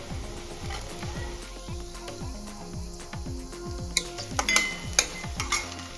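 Finely chopped tomatoes being stirred into a pan of softened onion and chilli for masala Maggi, sizzling steadily as a spatula scrapes and clinks against the pan in repeated strokes, with no talking.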